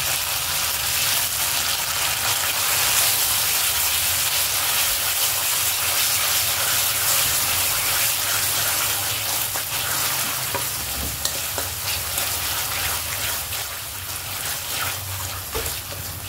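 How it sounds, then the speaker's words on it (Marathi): Masala spices frying in oil for Khandeshi pudachi patodi, a steady close sizzle and crackle with occasional stirring scrapes, continuous throughout with no talking. "मसाला छान फ्राय होऊ द्यायचा आहे"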